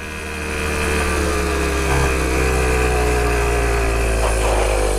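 A pocket bike's small engine runs steadily in a field, a continuous buzzing drone that swells in over the first second and then holds loud and close without pause.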